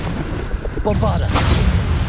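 Bombarda explosion spell cast in the Hogwarts Legacy video game, a deep booming blast that swells mid-clip over a rumbling low background, with faint crackling bursts and a brief voice beneath.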